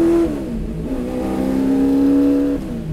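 A vintage race car's engine drones loud and close on the track, its pitch sliding down then holding a steady, sustained note before easing off.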